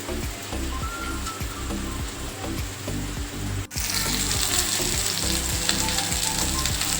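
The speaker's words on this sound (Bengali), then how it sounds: "আমি কিন্তু আলু পটলগুলোকে কিন্তু খুব সুন্দর করে ভেজে নিয়েছি" Potato and pointed gourd pieces fry in hot oil for a temple offering dish, giving a dense, constant sizzle broken by regular scraping stirs.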